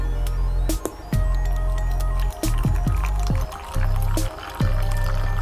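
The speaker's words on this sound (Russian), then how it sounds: "Можете посмотреть, полный стакан налил." Liquid is poured into a folding silicone camping cup, a steady filling stream with several short breaks and gurgling restarts, close and fairly loud with no talking.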